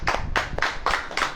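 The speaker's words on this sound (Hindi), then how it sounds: "ताली बजाओगे कि नहीं" An audience at a Hindi Christian sermon claps in a quick, loud rhythmic burst, about five sharp beats in under a second and a half.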